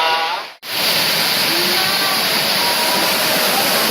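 Loud, steady rush of river water flowing over rocks near a volcano in Hawaii, a continuous broadband roar that fills the clip with only a momentary break near the start.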